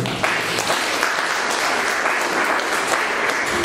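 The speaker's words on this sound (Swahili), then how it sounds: "Naomba mjipigie makofi." An audience bursts into applause at a launch event, a dense, steady wash of many hands clapping that carries on loudly for several seconds without talk.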